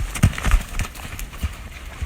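A Nokota horse being re-trained under a rider moves at speed, its hooves striking the ground in a loose, uneven rhythm of thuds close by, with a few heavier beats standing out.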